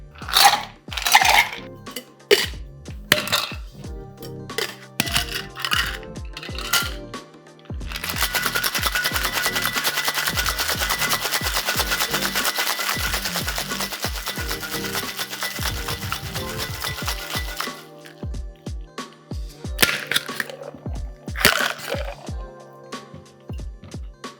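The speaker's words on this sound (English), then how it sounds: "So add ice, give it a shake." A cocktail shaker packed with pebble ice being shaken for a Mexican Firing Squad cocktail, with a long run of loud, steady rattling between scattered clinks and knocks of ice and metal, and no voices.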